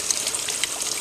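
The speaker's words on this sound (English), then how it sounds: "this waterfall always works" A garden waterfall pours into a basin, giving a steady, close splashing and trickling rush that continues without pause for the short moment.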